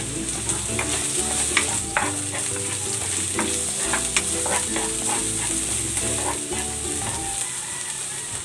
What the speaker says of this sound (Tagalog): Magigisa na ako ng bawang. Ilagay ko na rin tong sibuyas.